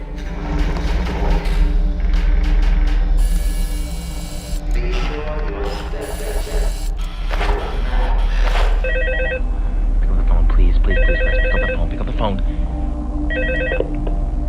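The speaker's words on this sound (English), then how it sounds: "Fritz gets a frantic phone call from Jeremy" A telephone rings in repeated bursts through a busy, loud mix of music and background noise, sounding mid-level in the scene, with a voice answering just afterward.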